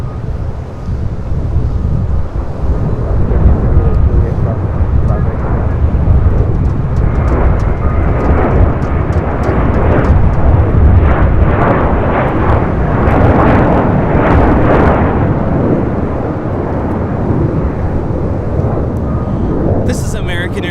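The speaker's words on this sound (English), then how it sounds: "American Airlines 2837 taking off to Charlotte on an A321 in the stand-up to cancer livery" An American Airlines Airbus A321 in a special livery takes off from LAX, its jet engines a loud, sustained broadband roar that swells and holds, buffeted by heavy wind noise on the microphone.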